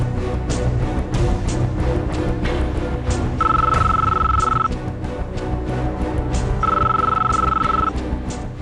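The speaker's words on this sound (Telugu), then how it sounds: "స్వర్ణ ఫోను ఇక్కడే మోగుతుంది" A mobile phone rings nearby in a home, two sustained electronic ringtone bursts of about a second each, separated by a pause, over a muffled room background.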